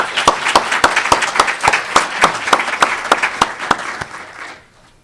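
Audience applause at a Columbia University online learning event, steady overlapping claps with distinct rhythmic hand claps standing out, fading away over the final second.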